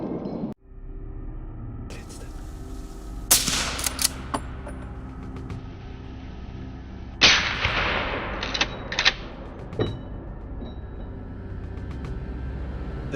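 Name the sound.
gunshot fired at wild boar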